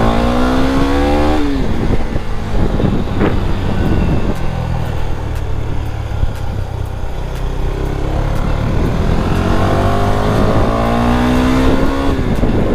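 A KTM Duke 390 motorcycle is ridden and revved, the engine climbing through rising pitches with gear changes and wind rush, loud and close throughout.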